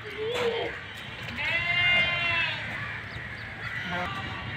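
Goats bleat in a pen at Deonar livestock market, several wavering cries close by over a busy crowd murmur, with one long quavering bleat in the middle.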